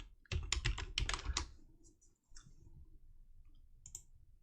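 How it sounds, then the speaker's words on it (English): Quick bursts of typing on a computer keyboard, a loud flurry of close clicks followed after a short pause by a few quieter, sparse keystrokes. "if you type in Spriter's resource"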